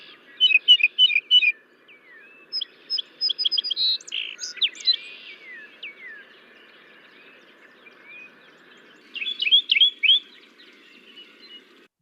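A northern mockingbird sings clear, varied phrases mimicking other birds, bursts of repeated chirps and whistles separated by pauses, bright and close against a quiet background.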